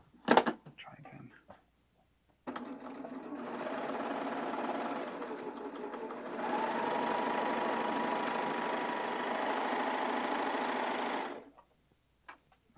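A computerized embroidery sewing machine stitches a design onto a sweatshirt, a steady close mechanical whirring hum lasting about nine seconds, preceded by a few handling clicks and ending abruptly.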